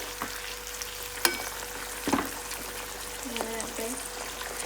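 Homemade hair oil heats in a pan over a medium gas flame, a low constant sizzle with a few stirring knocks and brief scrapes, and a voice speaks faintly underneath.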